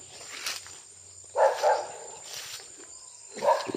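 Dogs bark in short bursts at a moderate distance, two or three separate barking episodes over a quiet outdoor background.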